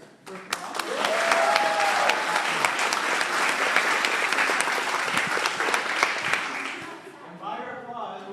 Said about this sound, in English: we need to have a round of applause for both of our competitors